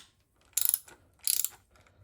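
A hand ratchet works the oil pump bolts on a 1971 Hemi 265 engine. Two close, crisp bursts of rapid clicking each last about a quarter second, with no talk.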